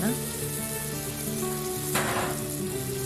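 Cooked dal tipped into frying spinach in a hot pan, a loud steady sizzle with a sharp burst of hissing about two seconds in as the lentils hit the oil, close and without talking.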